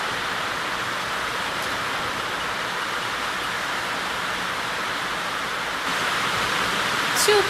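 A continuous roar of heavy rainfall beating down at the Public Education Centre, even and unbroken throughout, swelling slightly louder near the end.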